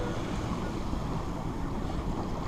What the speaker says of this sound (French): il y a toujours maintenant il y a 16 nœuds de vent